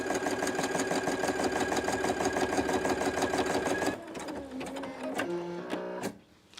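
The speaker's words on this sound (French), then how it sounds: "on voit sur l'écran la machine qui est là où elle est en train de piquer" A PFAFF Creative Expect 350 sewing machine stitches at a steady fast rhythmic whir, loud and close, then slows and stops with a few mechanical clicks and whirs near the end.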